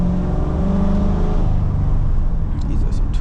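A C7 Corvette Z06 engine drones steadily from inside the cabin while driving on wet, twisty roads. The hum is loud and even, with a slight rise in pitch, and a person talks over it.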